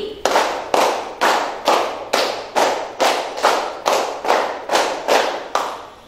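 A group plays an ice-breaking clapping game, clapping together in a steady, even rhythm, about a dozen loud unison claps spaced roughly half a second apart, with no talking.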